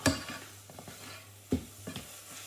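Pasta sauce gets stirred in a pan, with a few soft scraping strokes and two clear knocks of the spoon against the pan's edge over a faint low hum.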